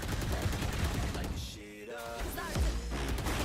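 Gunfire crackles in the video game VALORANT, with dense bursts of shots and impacts at the start, a brief lull, then more firing and crashing sounds toward the end.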